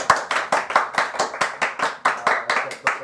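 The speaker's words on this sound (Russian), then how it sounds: "Аплодисменты другу." A small group in a public-speaking class claps for a classmate, close and fairly loud, settling into a regular, rhythmic unison beat of about four claps per second.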